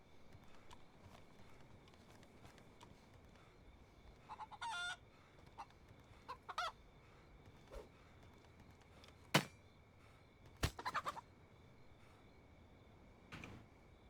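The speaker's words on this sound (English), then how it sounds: "I heard a chicken." A chicken clucks a few scattered times in DayZ, faint and somewhat distant against a quiet outdoor game ambience, with brief knocks and no talk.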